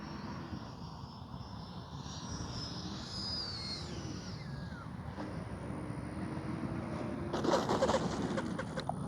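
Freewing 80mm F-22 Raptor RC electric ducted-fan jet coming in to land, a steady whooshing fan whine with a faint pitch sweep that drifts and swells slightly near the end, heard from the ground at moderate distance.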